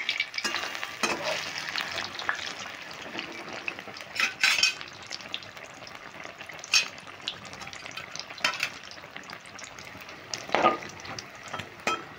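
Chilli chops fry in oil with a quiet, constant sizzle, broken by several sharp clinks and scrapes of a utensil against the pan.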